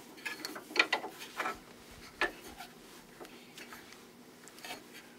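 Jointer table being lowered by turning its adjustment wheel, a series of faint irregular ratcheting clicks and mechanical ticks, close and quiet with no talking.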